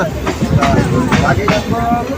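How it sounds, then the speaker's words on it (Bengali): A local train pulls out of Contai station in West Bengal on the Howrah–Digha line, a close, loud rumble with rhythmic clatter, and voices chatter over it. "এই কাথি স্টেশনের বাইরে এখন ট্রেন বেরিয়ে যাচ্ছে"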